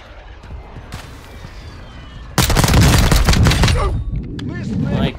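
Rapid, loud pistol shots in the Warzone 2.0 battle royale, a burst of overlapping cracks after a quieter stretch, with faint background noise before the exchange.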